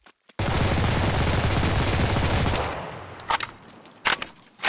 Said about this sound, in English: the PPSH 41 is, the pattern might go all over the place a bit. amazing rate of fire